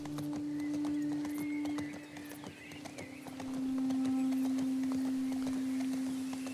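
A horse gallops in the video game The Last of Us Part II, with steady, rapid hoofbeats running through the whole stretch over a constant in-game tonal hum, briefly easing in the middle before picking back up.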